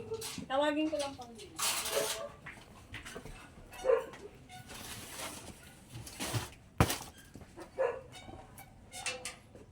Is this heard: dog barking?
yes